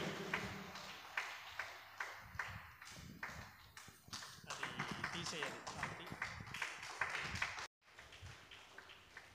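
Audience clapping at a golden jubilee celebration for a nun's fifty years, heard as repeated bursts of applause from the crowd that rise and fall, with a voice talking over it and a brief cut near the end.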